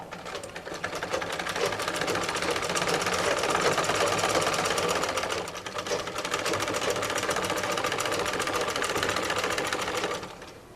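A sewing machine stitches elastic into a salwar in two steady, rapid runs with a brief pause between them, the needle chatter close and dense, and no voices.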